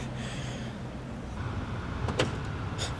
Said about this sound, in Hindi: ये हो गई गाड़ी अनलॉक।